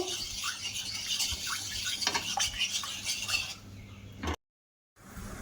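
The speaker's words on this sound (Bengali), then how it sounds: "ওই আমের পিউরির মধ্যে দিয়ে দেব জেলেটিন পাউডারটা। দিয়ে ভালো করে মিশিয়ে নেব।" A spoon stirs gelatin powder into mango puree in a bowl, giving soft continuous scraping and light clinks close by, then a brief silence before the stirring resumes.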